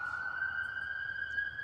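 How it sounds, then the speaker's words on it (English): A steady, high siren tone holds for a moment, fairly distant and faint against quiet background noise. "You hear the siren?"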